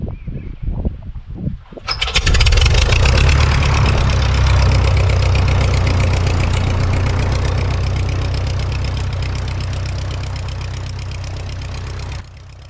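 A tail dragger aircraft's piston engine cranks with a few sputtering coughs, then catches at about two seconds and settles into a loud, steady, close idle that runs on alone until it cuts near the end.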